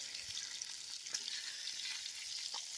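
Bacon and eggs frying in a pan, a steady close hiss and sizzle with faint crackles and pops throughout, no voices.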